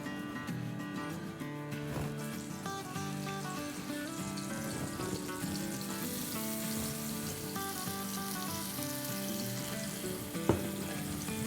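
Mutton seekh kebabs sizzle steadily on a hot tawa over a stove, a continuous close frying hiss lasting throughout, with a tonal musical background underneath.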